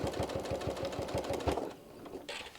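Sewing machine stitching an oven mitt, running in a quick, steady burst of rhythmic needle strokes for about a second and a half before stopping, leaving a quieter room with a brief soft rustle.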